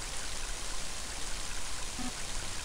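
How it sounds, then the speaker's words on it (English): Heavy rain pours steadily in the video game Mother 3, a dense, even hiss of water that fills the scene without letup and with no voices over it. "Mighty heavy rain, isn't it?"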